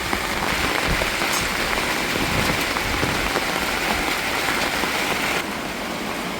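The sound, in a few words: heavy continuous rain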